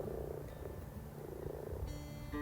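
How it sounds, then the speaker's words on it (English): Common frogs croak in a garden wildlife pond at night, a steady low purring chorus of many frogs close by, with no voices. "how many pairs of common frogs have we spotted in the pond tonight?"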